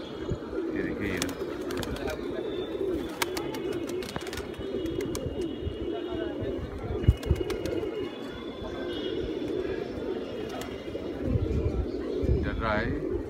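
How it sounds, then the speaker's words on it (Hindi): Pigeons cooing close by, soft repeated low coos over a steady background murmur, with occasional sharper clicks and chirps scattered through. "इस पर कबूतर कुटक रहे हैं"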